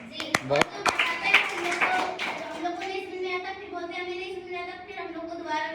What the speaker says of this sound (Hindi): छोटे बच्चे ताली इतने अच्छे से बजा रहे हैं कि उसी में मजा आ रहा है।